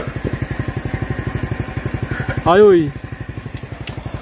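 A motorcycle engine putters in a steady rapid rhythm, close by, with a brief rising revving burst midway and people talking over it in Punjabi.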